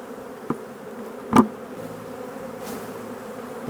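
Honey bees hum faintly around an opened hive, a low steady buzz with a couple of brief louder passes as single bees fly close by.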